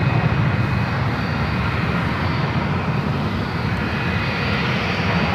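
A Southwest jet airliner takes off at SFO, its engines giving a steady, loud, broadband roar that fills the whole stretch without letup.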